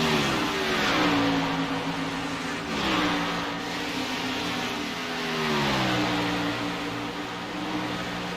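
Stock cars racing at Charlotte Motor Speedway in iRacing roar in a steady, loud, continuous engine drone whose pitch sweeps up and down in waves as the cars lap, no voices heard.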